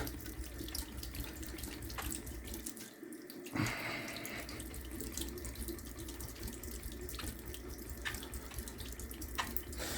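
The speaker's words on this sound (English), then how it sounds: "little extra force here under some running water" Tap water runs steadily over a hone being rinsed after flattening with SiC powder, a continuous faint splashing hiss. A brief clunk and knocks break in partway through.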